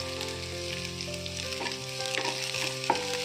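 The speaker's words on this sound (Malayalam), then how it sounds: "കടുക് ഒന്ന് പൊട്ടാൻ തുടങ്ങിയിട്ടുണ്ട്. ഈ സമയത്ത് നമുക്ക് കൊച്ചുള്ളി ഇട്ട് കൊടുക്കാം." Mustard seeds and small shallots sizzle and spit in hot oil for a Kerala papaya thoran, a steady close frying hiss with a few sharp pops and stirring scrapes, no talking.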